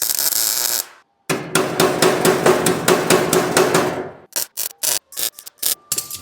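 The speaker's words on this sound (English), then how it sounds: "so by hammering it, I stretched it back." A hand hammer strikes a welded steel panel on a rat rod truck, a quick series of loud, sharp metallic blows at a steady pace, then a pause and several more separate hits close by.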